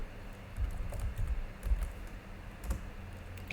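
Keys on a computer keyboard clatter as a command is typed, a soft irregular patter of close clicks that runs steadily throughout with no voices.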